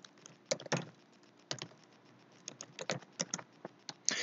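Keys on a computer keyboard clack in irregular bursts, with short clusters of crisp taps separated by brief pauses, close and clear with no voices.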